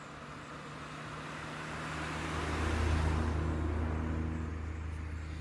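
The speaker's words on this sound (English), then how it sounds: "Tried to record the car there." A car passes at night near a roadside camp, a low engine and tyre rumble swelling toward the middle and fading slowly, steady traffic noise underneath with no talking.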